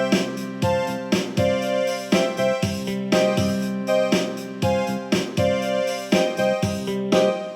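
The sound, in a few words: electronic keyboard accompaniment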